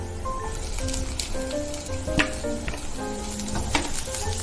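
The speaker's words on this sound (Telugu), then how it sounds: "క్యాప్సికమ్ ని 2 మినిట్స్ ఫ్రై చేసుకుంటే సరిపోతుంది" Capsicum sizzles and fries in a pan with browned onions, a steady close crackle broken by occasional stirring clinks, with no voices.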